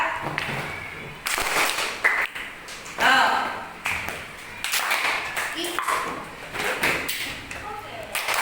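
A group keeping a counted rhythm, alternating pats on the chest with hand claps, sharp irregular slaps and claps under continual speaking voices, in a classroom pattern-recognition exercise.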